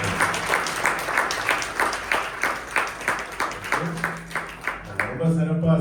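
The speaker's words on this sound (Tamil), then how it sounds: "மீண்டுமாக வாலிப பிள்ளைகளுக்கும் சிறு பிள்ளைகளுக்கும் ஒரு பெரிய கைத்தட்டு." A church audience claps for the children and youth after their Christmas service drama, a rhythmic run of claps at a fairly steady beat, with voices speaking and a tone sounding over the applause toward the end.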